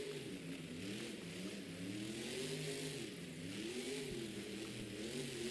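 The Grave Digger Grandma monster truck's engine revs, rising and falling in pitch in repeated surges, a distant, muffled roar under steady crowd and arena noise.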